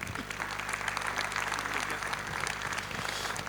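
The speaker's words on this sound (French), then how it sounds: "Si vous voulez bien applaudir." Audience applause at a colloquium on water and housing, a broad sustained wash of many hands clapping at moderate distance, fairly soft and even for the whole stretch.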